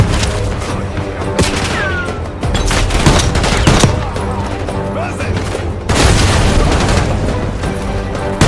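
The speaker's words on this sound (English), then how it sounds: "Tossing grenade." Combat gunfire and explosive booms from Call of Duty Black Ops 6, with a grenade blast amid loud continuous fusillade and machine-gun bursts, heavy low rumbles throughout.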